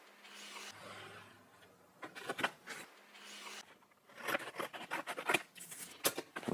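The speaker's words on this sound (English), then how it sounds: "I'll start trimming this to fit where it needs to go. So the first trim will be on the top edge." An oversized piece is trimmed to fit along its top edge for a bicycle styling job, with close, crisp snipping cuts in irregular bursts, two short pauses, then a denser run of cuts.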